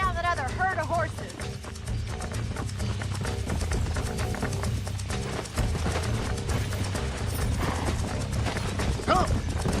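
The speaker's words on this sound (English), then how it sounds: "Let's see if we can track down that other herd of horses." Horses' hooves clip-clop at a steady pace in the Red Dead Redemption video game, layered under continuous game music and ambience, with a few whinny-like calls early on.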